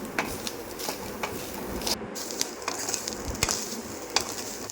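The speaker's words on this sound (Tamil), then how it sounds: "அது கூடவே துருவின தேங்காய் சேர்த்து நல்லா கிளறி விட்டுக்கோங்க." Soft sizzling of grated coconut and dried chilies frying in a pan, with repeated scraping and stirring strokes, moderately quiet and continuous, no voices.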